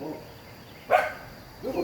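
A single dog bark sounds from a distance, followed by another fainter bark, against a quiet outdoor background.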